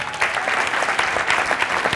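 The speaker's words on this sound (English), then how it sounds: "Give him another round of applause." Audience applause at a live stage event, a dense continuous roar of many hands clapping, loud and sustained throughout with no voices on top.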